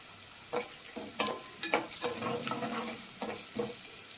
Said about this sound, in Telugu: కొద్దిగా ఎండుమిరపకాయలు ఇవి వేయించుకోవాలి.